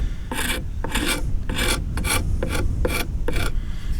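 Tool scraped back and forth against an oak bell during repair, dislodging small pieces in about eight rhythmic rasping strokes, close and fairly loud with no talk.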